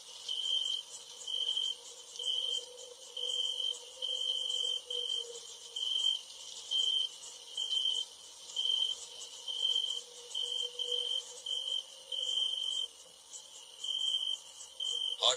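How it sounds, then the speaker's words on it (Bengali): Crickets chirp at night in regular, evenly spaced high pulses, a continuous rhythmic trill with no other sounds. "ঝিঁঝি পোকার একটানা তীব্র ডাক পুরো পরিবেশের নিস্তব্ধতাকে আরো বাড়িয়ে তুলেছে যেন"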